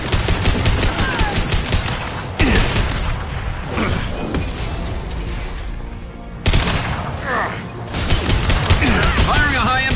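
Heavy gunfire erupts in a video game battle, dense bursts of automatic fire and impacts rattling loud and close, with brief lulls before the shooting surges back.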